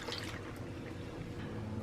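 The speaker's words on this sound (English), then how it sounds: "To that, we're gonna add in 1 1/3 cup of water" Water pours steadily into a pot of fresh apricots for honey jam, a continuous close liquid rush with a soft trickling texture, heard alone without talk.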